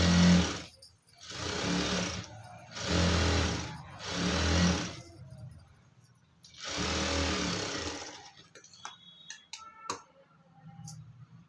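Sewing machine stitching saree lining cloth, running in four loud, close bursts of rapid stitching separated by short pauses, then stopping and giving way to light clicks and handling noises.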